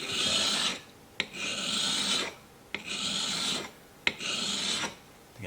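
A chisel is rubbed across a sharpening stone to remove burrs, four long rasping strokes in a steady back-and-forth rhythm, each separated by a brief pause and a small click as the tool is reset, close and alone.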